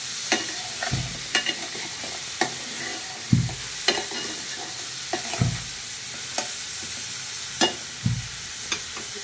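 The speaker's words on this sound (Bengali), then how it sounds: "নাড়াচাড়া করে পেঁয়াজটা সফট হওয়া পর্যন্ত অপেক্ষা করব।" Onions frying in a pan, stirred at a regular pace, so a constant sizzle is broken by repeated spoon scrapes and soft knocks against the pan, close up with no talking.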